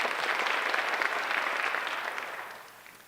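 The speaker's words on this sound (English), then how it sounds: "but a quick little round of applause for Caroline." A high school senior awards ceremony audience gives a short round of applause, steady and fairly full at first, then gradually tapering off.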